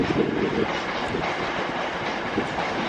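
A train rolls in close by, giving a steady, loud broadband rumble and rail noise that fills the whole stretch, with no distinct squeal standing out.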